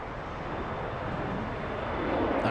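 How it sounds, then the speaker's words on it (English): Airliner with Rolls-Royce Trent 900 engines at LAX, a broad steady jet roar close by that swells slightly louder toward the end, with no talk over it. "That's the Rolls-Royce Trent 900s,"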